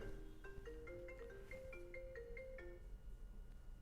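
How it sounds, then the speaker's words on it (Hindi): A phone ringtone plays a short melodic run of bright electronic tones, faint and alone, then cuts off as the call is rejected from a smartwatch. "हम घड़ी से ही फोन काट देते हैं।"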